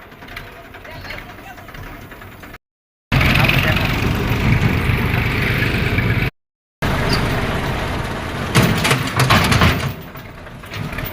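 A tractor engine runs steadily at close range with a dense, continuous mechanical rumble and rattle, while people talk over it.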